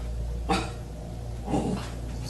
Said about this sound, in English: What are you barking at, Zoe?